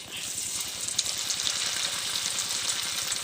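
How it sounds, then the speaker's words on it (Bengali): Small batches of raw rice fry in hot oil inside a strainer, making a dense, continuous bubbling sizzle with a steady crackle throughout. "আমি অল্প অল্প করেই চাল ভাজবো।"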